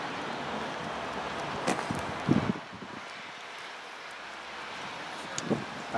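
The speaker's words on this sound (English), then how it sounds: "It's gone a bit cloudy now and windy." Wind buffets the microphone in a constant rushing roar, with a few louder gusts and faint rustling, no voices.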